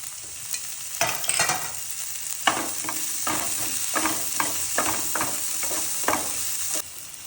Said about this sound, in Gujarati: ગાજર પણ થોડાક હાર્ડ હોય છે એટલે એને પહેલા આપણે સાતરી નાખશું